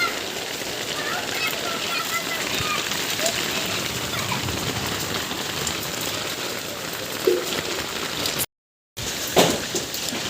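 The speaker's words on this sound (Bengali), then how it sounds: "আবার অনেক দিন পরে বৃষ্টি হচ্ছে।" Steady rain pours down outdoors at a home in cool, breezy weather, a dense continuous hiss with a few louder drops and a brief gap near the end.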